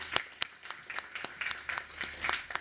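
A small group at a breakfast meeting on women in sport and technology claps for the panel: sparse, uneven individual hand claps, moderately close, with a few sharp standout claps and no talking.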